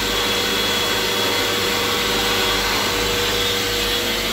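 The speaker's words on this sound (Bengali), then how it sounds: "এরপর এখানে হাত শুকাবার জন্য একটা হ্যান্ড ড্রায়ার রয়েছে, যেটা কাজ করছে।" A hand dryer runs in the bathroom of a Vande Bharat chair car train as a steady, loud, unbroken blowing roar that holds evenly for several seconds with no talk over it.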